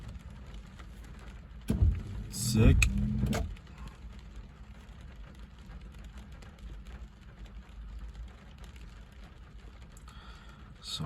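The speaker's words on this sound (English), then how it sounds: "Listen to that fucking thunder." Thunder breaks with a loud, close rumble during a storm at the beach, then fades into a steady low hiss of rain; one brief spoken word is heard.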